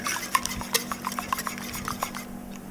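A whisk beats eggs with caster sugar in a bowl, making rapid close clinks and scrapes against the sides that keep a brisk, uneven rhythm with no talking.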